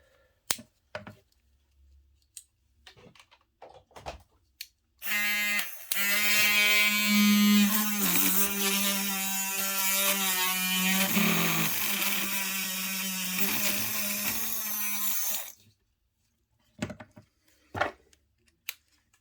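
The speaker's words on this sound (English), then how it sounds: "we're going to use the Dremel and the wire wheel to clean those wheels, because that is how a locomotive picks up power" A Dremel rotary tool with a wire wheel cleans the wheels of a model 0-4-0 colliery locomotive, a loud, steady high-pitched whine lasting about ten seconds, with the pitch dipping as the brush bears on the metal and quiet handling noises before and after.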